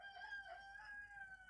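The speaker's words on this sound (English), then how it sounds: "Is the rooster gonna be asking him too?" A rooster crows in a long, drawn-out call that holds steady throughout, coming across as moderately distant and clear, with no talking over it.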